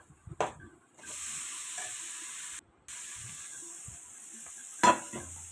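Ivy gourd (kovakka) tossed into a pan with chili powder, sizzling steadily and fairly quietly with a few stirring clatters near the start and end.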